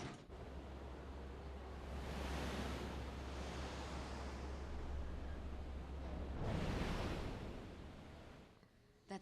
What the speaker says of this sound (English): That sluice changed the direction of the water.